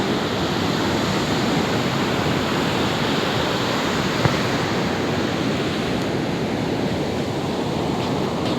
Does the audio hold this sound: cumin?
no